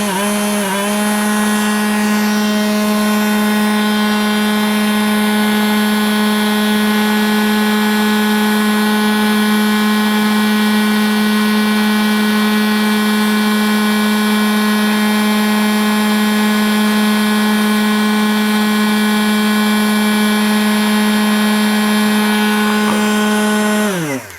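An RS 755 12V DC motor rated at 12500 RPM spins at high speed, giving a loud, steady, close whine with a strong even pitch that holds unbroken for over twenty seconds before cutting off at the end.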